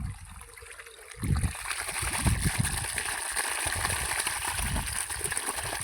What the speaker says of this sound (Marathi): अडीचचा पाईप भरून चालतोय.